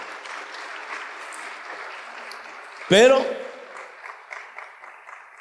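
Church congregation applauding, a steady mass of clapping running for several seconds with a sharp loud burst near the middle; a preacher's voice speaks briefly over it.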